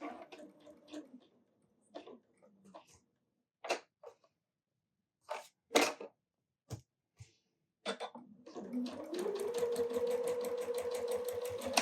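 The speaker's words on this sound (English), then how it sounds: "so let's get sewing." A sewing machine stitches snowman quilt pieces in short, separate bursts with pauses between them, then settles into one long steady run of stitching at the end, close and clear with no talk over it.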